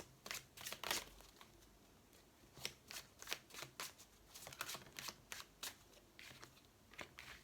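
A deck of mirror oracle cards is shuffled by hand, with quiet, close riffling bursts repeating in an uneven rhythm.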